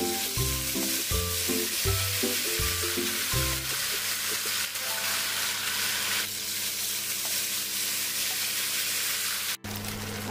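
Cumin and a ground spice masala for Maharashtrian patwadi rassa dropped into hot oil, giving a continuous bright frying sizzle that lasts throughout, with tonal music in the background at first.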